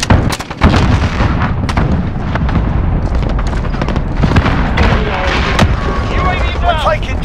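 Repeated booming blasts from a cluster strike in Call of Duty: Modern Warfare, a dense run of loud, overlapping explosions and gunfire-like cracks rolling on for several seconds, with radio-style game chatter faintly underneath.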